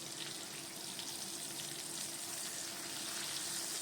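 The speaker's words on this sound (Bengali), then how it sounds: "সামান্য হলুদ আর সামান্য নুন দিয়ে পটলটা আমি ভেজে নিলাম" Pointed gourd pieces fry in oil with turmeric and salt, giving a steady, even sizzling hiss at moderate level throughout, with no talking.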